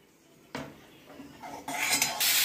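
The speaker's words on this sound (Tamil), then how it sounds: "இந்த தக்காளியை போட்டுட்டு நல்லா வதக்கணும்" Chopped tomatoes go into a hot pan for aloo rava dosa and are stirred, giving loud metallic clatter of a utensil against the pan and a rising sizzle that grows louder toward the end.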